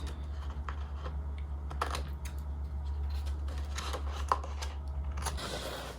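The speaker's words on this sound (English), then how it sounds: "I'm gonna cut these edges off." Scissors trim the edges of paper for a pastel candy shop Christmas planner spread, making faint, scattered snips and clicks over a low background hum, with no talking.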